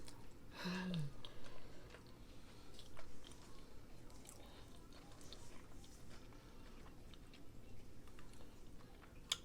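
Close, quiet chewing and biting of fresh, sweet durian fruit, soft squishy mouth sounds recurring irregularly over several seconds with faint background noise.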